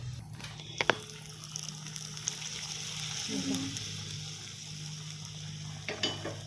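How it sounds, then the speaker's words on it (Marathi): Hot garlic tempering is poured over a spinach-potato curry in a pot, giving a soft, faint sizzle with a few sharp clinks of a spoon or lid in a quiet kitchen. "सुंदर अशी वरून लसणाची फोडणी दिलेली आहे"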